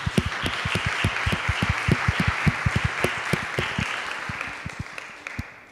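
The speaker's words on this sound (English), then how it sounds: "So a big round of applause to all of you," A crowd at a UNESCO Africa Week NGO forum conference claps steadily for several seconds, the applause thinning and fading toward the end.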